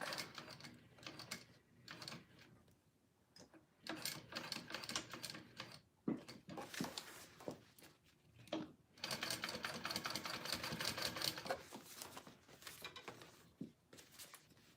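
A sewing machine double-stitches a mini backpack in quick, uneven bursts, its rapid needle chatter starting and stopping with short pauses between runs, fairly quiet and close.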